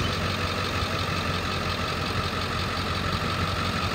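A 2001 Ford F-350 Super Duty with a 7.3-liter diesel engine idling steadily, a low rumbling clatter that holds even and moderately loud throughout with no talking.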